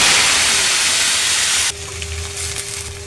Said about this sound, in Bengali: কড়াইতে তেল দিয়েছে, রসুন দিয়ে দিচ্ছি। রসুন লাল হয়ে এসেছে।